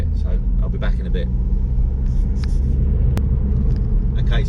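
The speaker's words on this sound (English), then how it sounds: "So I'll just let the car warm up a bit." A Mk8 Ford Fiesta ST with a Scorpion GPF-delete exhaust warming up, a steady deep idling rumble heard close, with faint bursts of speech over it.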